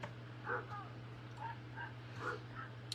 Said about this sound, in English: my dogs are outside being vocal